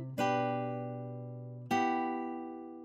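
Two strummed chords from a modern nylon acoustic guitar preset in a beat, each struck sharply then left to ring and slowly fade, spaced about a second and a half apart, with no voices.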